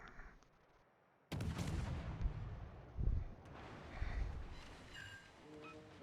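Warship guns fire in World of Warships: a sudden heavy salvo erupts, followed by several deep booming blasts and rumbling over the next few seconds, loud and close, with no talking.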